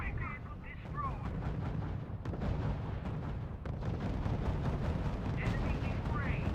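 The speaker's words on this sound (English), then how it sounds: "Unit opening fire on the enemy." Artillery and gunfire crackle and boom in the World War II strategy game R.U.S.E, steady dense battle noise running throughout with radio-style unit voices talking over it.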